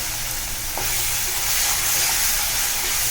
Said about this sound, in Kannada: ಇವಾಗ ಟೊಮೆಟೊ ಹಾಕ್ತಾ ಇದ್ದೀನಿ